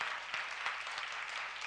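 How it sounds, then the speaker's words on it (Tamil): Congregation clapping hands during a Sunday church service, a steady dense patter of many hands carrying on evenly throughout, close and fairly loud, with no voices over it. "கைதட்டுங்க பார்க்கலாம்."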